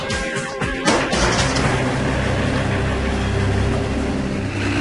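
A retuned jetpack engine runs during a liftoff attempt, giving a loud, steady mechanical roar that holds evenly after a brief rising start.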